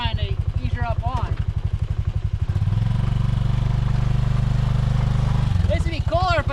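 A small, low-powered motorcycle engine putters with a steady pulsing beat, then revs up to a sustained louder drone for a few seconds before easing back, with someone talking at the start and end.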